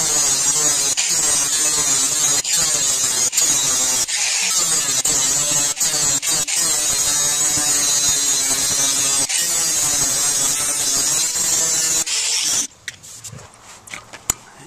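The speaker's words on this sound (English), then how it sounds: "I'm grinding on that, then I'll get that, and then I can paint that," A power grinder grinds down a welded-in hole on a diesel Blazer, a loud continuous high-pitched whine held for about twelve seconds with brief dips as it bites, then cutting off to quiet scraps of clatter.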